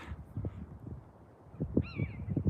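A buzzard's high, drawn-out call rings out once near the end, over rhythmic low thuds like horses' hooves and a steady windy outdoor rumble in a Scottish Borders forest.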